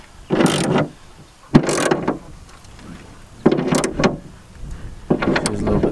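Ratchet with a 16 mm socket snugging the rear wiper nut on a VW Mk4, heard as four separate bursts of clicking ratchet strokes with brief pauses between them, close by and fairly loud, with no talk.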